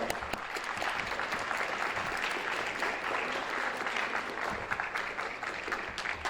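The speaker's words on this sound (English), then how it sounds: "Students, big round of applause." A school audience applauds steadily after a jazz band receives a large community donation, a dense, even wash of clapping that fills the space without pause.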